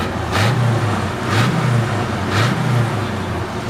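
An idling six-cylinder engine in a 1964 Chevy C10 shortbed pickup runs with a steady, loud rumble, rising in three regular surges roughly once a second.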